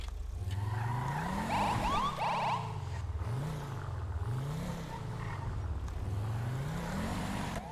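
Police Dodge Charger in a GTA roleplay session braking and skidding: a steady engine drone that rises and falls repeatedly, with a brief squealing tire chirp early on, continuous and fairly loud, with no talk.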